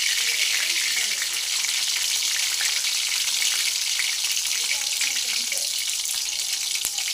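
Curry leaves and garlic sizzle and crackle in about two and a half spoons of hot oil for a Maharashtrian fish curry, a steady, loud frying hiss that runs unbroken throughout with no talking.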